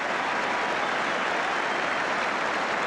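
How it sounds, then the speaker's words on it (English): A large football crowd applauds a goalkeeper's save with dense, steady clapping that fills the whole moment, sounding broad and distant like a stadium. "And the goalkeeper gets applause for the second save."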